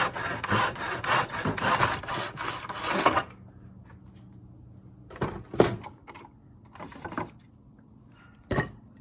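Hand sawing of wood for a floating picture frame: quick rhythmic strokes for about three seconds, then a few separate rasping strokes with quiet pauses between them.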